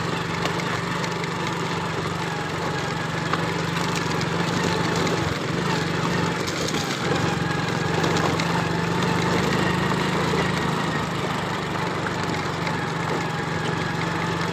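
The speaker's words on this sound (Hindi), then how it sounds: "यहाँ एक हाथ से मोटरसाइकिल चलाना बहुत मुश्किल हो रहा है" Motorcycle ride on a rough, rocky mountain road in Balochistan, the engine a steady, continuous drone with a persistent low hum throughout, mixed with rattling and broadband road noise, loud and close with no talking.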